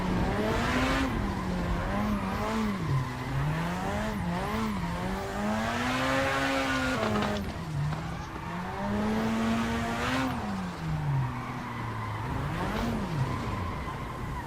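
In Assetto Corsa, a car drifts with long, wavering tire squeals that rise and fall over a continuous engine drone, repeating through several slides and running loud without pause.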